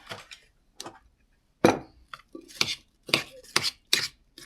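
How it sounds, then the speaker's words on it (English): A spoon scrapes and clicks around a bowl of cottage cheese with chopped apple and cereal, making a series of sharp, close clinks and soft wet scraping sounds in an irregular rhythm. "So watch when I stir it up."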